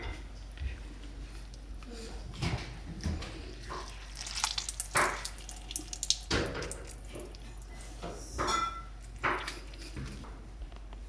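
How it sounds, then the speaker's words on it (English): Blanched vegetables for dumpling filling are squeezed by hand, releasing wet squishes and drips in irregular bursts, quiet and close, with a low steady hum underneath. "I'm gonna squeeze all of the water out with my hands"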